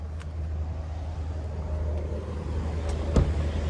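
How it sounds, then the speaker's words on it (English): Steady low road rumble of heavy traffic on an interstate, with a deep drone of trucks using exhaust brakes throughout and a brief sharp knock near the end. "Everybody's using their exhaust brake on the interstate here."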